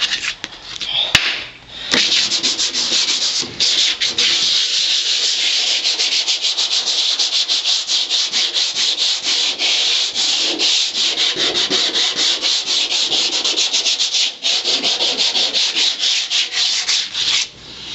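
Steady, harsh abrasive sanding as paint and rust are stripped from the floorpan of a 1962 Ford Falcon, continuous and close, with brief pauses near the start.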